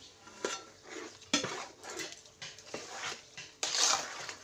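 Sweet rice pudding (Madhu Vat) being stirred in a pot, a spoon knocking and scraping against the metal in several separate clinks and scrapes, close and fairly quiet, with no talk.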